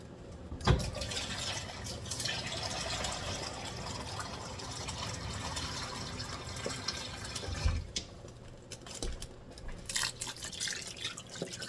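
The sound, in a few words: water poured into a pot of dye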